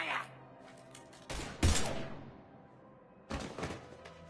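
Gunfire in the video game Mass Effect 3: two loud, dense bursts of shots separated by a short lull, the first peaking sharply before fading into a lingering rumble.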